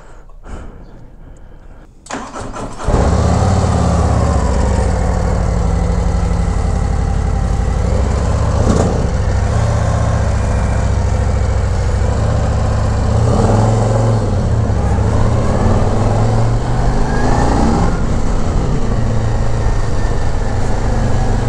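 A new 2023 Harley-Davidson Road Glide CVO motorcycle starts up and then runs with a loud, deep, steady rumble close by, with faint revving swells over a long idle.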